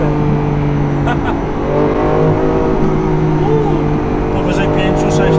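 A Lamborghini Aventador SV, a 750 hp car, downshifts to third and pulls hard: a steady loud engine drone from inside the cabin with a rising pitch, a person talking over it.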